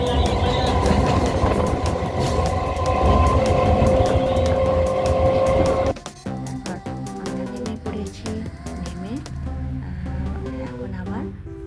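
Inside a moving passenger train, a loud rumbling roll with a rising tone fills the first half, then eases into clattering and a softer ride as people talk over it.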